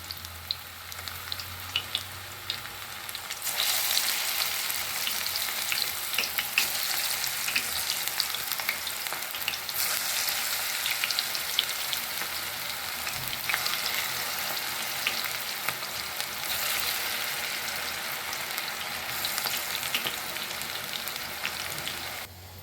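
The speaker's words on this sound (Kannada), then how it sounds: "ಎಣ್ಣೆಯಲ್ಲಿ ಬಿಡಿ ಈ ಪಕೋಡವನ್ನು ಬೇಯಿಸುವಂಥ ಸಂದರ್ಭದಲ್ಲಿ ಯಾವಾಗಲೂ ಉರಿಯನ್ನು ಲೋ ಫ್ಲೇಮಲ್ಲಿ ಇಟ್ಟುಕೊಂಡು ಬೇಯಿಸಿ" Watermelon peel pakoda frying in hot oil gives a steady, close sizzle and crackle that swells after a few seconds and keeps bubbling evenly, with no voices.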